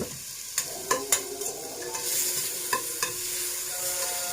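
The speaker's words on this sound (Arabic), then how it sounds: "خلاص انا ولعت هنا على البصل والطماطم بتاعتي، هديلهم تشويحه كده" Onions and tomatoes sautéing in oil in a home kitchen pan: a soft sizzle under several sharp clicks and scrapes of a spoon stirring against the pan.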